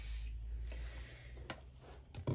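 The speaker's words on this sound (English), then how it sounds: "It's a Frisk pastel fixative. So I'm just going to move this to the side and spray it." A hissing aerosol spray of pastel fixative from a can in short bursts, close by, with a low steady hum underneath and a few soft knocks.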